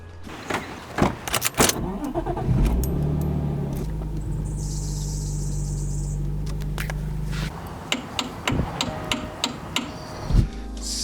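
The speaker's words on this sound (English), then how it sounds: "I'll turn on the car." A car with a playing-up pump starts with a brief cranking burst, then settles into a steady low engine idle that runs for several seconds before clicks and knocks interrupt it near the end.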